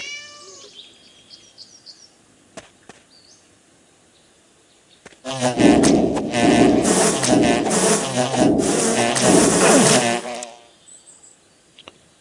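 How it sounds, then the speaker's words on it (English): Mosquitoes swarming in the video game Divine Divinity: after a quiet stretch with faint game sounds, a loud, thick buzzing drone rises suddenly, holds for about five seconds and then cuts away. "Why is there so many mosquitoes?"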